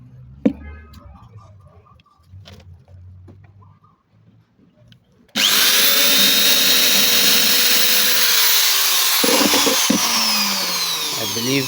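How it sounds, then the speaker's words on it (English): A punch chucked in as a drill bit bores into metal while a door lock rod retainer is fabricated for a 1976 Trans Am. The close, loud, steady whine starts after quiet handling noises and runs about six seconds, briefly dipping near the end. "and drill."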